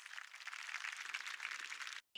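Applause at a high school graduation ceremony, a faint, steady spread of many hands clapping for about two seconds before it cuts off abruptly.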